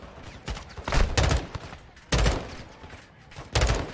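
Gunfire in a Call of Duty MW2 firefight, several separate loud bursts of rapid shots with short quieter gaps between them, close by, with some faint voices.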